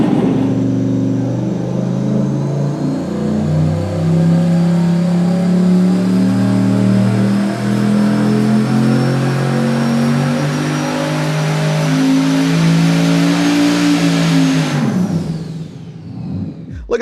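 An intercooled V8 on an engine dyno revs hard and sustained for about fifteen seconds, a loud, rising roar that holds steady before cutting off abruptly near the end.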